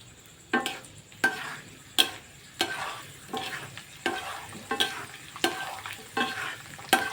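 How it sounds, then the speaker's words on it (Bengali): Curry leaves crackle and spit in hot oil for chilli achar, a series of sharp popping bursts roughly every half second over a steady sizzle, close and moderately loud with no talking. "দেখুন কারি পাতাটা এই যে চটপট চটপট করছে, তার মানে আমাদের তেল গরম হয়ে গেছে"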